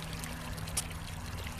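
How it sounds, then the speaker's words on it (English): Water from a ditch, pumped through a pipe, pours out steadily in a soft, continuous splashing trickle, faint and fairly close, with no voices. "This pipe right here, you can see water coming out of that pipe,"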